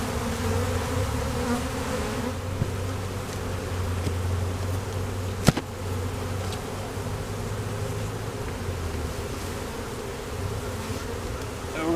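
Dense, steady buzzing of many honey bees close by, a continuous droning hum with one brief sharp knock partway through.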